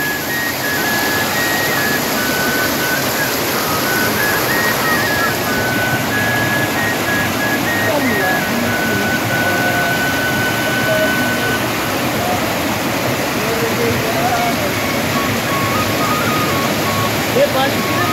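Mountain water rushes near Patlian Lake in Kashmir, a loud, continuous broadband roar of flowing stream water that stays steady throughout, with voices talking faintly over it.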